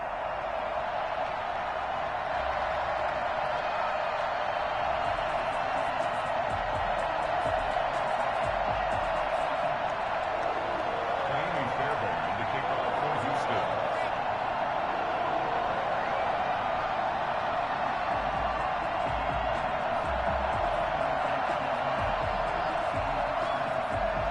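A stadium crowd in Jacksonville roars steadily before a Houston Texans versus Jacksonville Jaguars NFL football game, a dense, continuous wash of cheering at even loudness throughout.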